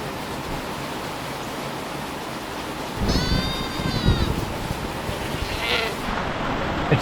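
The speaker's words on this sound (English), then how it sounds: "It started pouring rain." A sudden pouring rainstorm, heard as a steady broadband hiss of heavy rain that swells midway, with a bleating animal call and faint voices breaking through.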